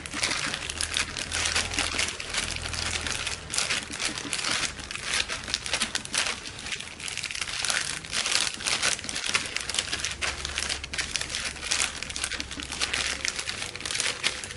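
Plastic sheet crinkling and rustling steadily as sticky rice cake (jadah) is flattened and smoothed beneath it by hand, close and continuous with no talk.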